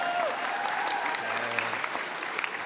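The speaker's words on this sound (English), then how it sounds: "Give a round of applause for Guatemalan" Audience applause at a university Latinx graduation ceremony: sustained clapping from a crowd, fairly distant and moderate in level, running throughout with a faint voice or tone briefly underneath.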